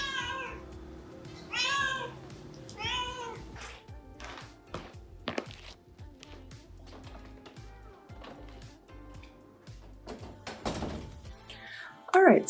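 A cat meows several times near the start, loud and close, amid thumps and taps of household movement, with a person speaking and another meow at the very end.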